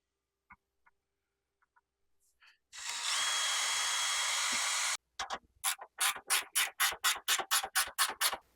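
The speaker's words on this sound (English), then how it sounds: "and then we can drill everything from the outside in." A power drill bores holes in steel for Jeep WJ 1-ton over-the-knuckle steering: a few faint taps, then a steady high whine for about two seconds, followed by a rapid series of short, pulsing drill bursts.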